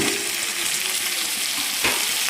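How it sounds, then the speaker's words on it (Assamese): Potatoes and meat fry together in a pan with a loud, steady sizzle that hisses on without a break, and a brief clink of stirring comes near the end. "অলপ দেৰি ভাজিম"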